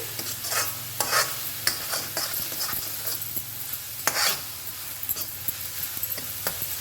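Onions fry in a pan for dal fry, a soft continuous sizzle broken by repeated scraping strokes of a spatula, fairly quiet and close, with no one talking.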